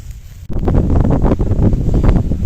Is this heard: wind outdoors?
yes